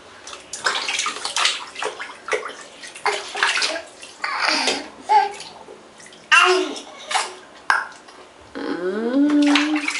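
A child is splashed with water to cool off on a hot day, with repeated sloshes and pours of bath water, close and loud, while the child babbles and an adult talks in between.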